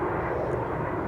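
A low-flying Ryanair airliner passes overhead near Ponta de São Lourenço, making a loud, steady broadband jet roar throughout the short moment, with no speech.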